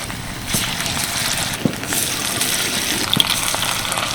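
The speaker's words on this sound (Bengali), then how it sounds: "মাছের গায়ে ভালোভাবে কোটিংটা লাগিয়ে নেব এবার তেলের মধ্যে ছেড়ে দিচ্ছি" Batter-coated lote fish frying in hot oil, a continuous close hiss and sizzle with small pops and crackles scattered through it.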